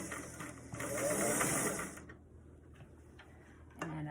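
A sewing machine stitches a beret in a loud, close, fast run of about two seconds, then stops, leaving faint handling noises and a brief final whir.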